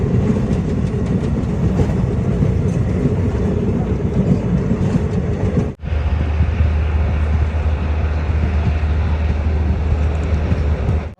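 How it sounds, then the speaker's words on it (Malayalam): A train running through snow on the way to Srinagar, Kashmir, heard from inside as a loud steady rumble and rattle of the carriages with clickety-clack, broken by a brief drop midway, no voices. "ഇതാ മഞ്ഞിലൂടെയുള്ള ഒരു ട്രെയിൻ യാത്ര."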